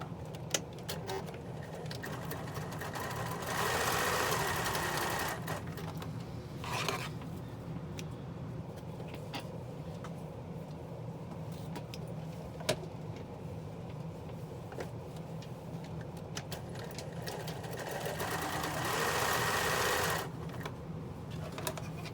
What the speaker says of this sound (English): So not much sewing really, just these 2 little diagonal seams.